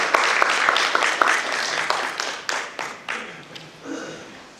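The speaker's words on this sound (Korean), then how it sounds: "큰 박수 부탁드립니다" An audience at an Internet of Things and smart city lecture claps to welcome a Cisco Systems Korea speaker, a dense burst of applause that thins into a few scattered claps and fades over several seconds.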